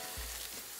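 Potatoes fry in hot oil, giving a steady, dense, close-up sizzle throughout the short moment, alone without voices.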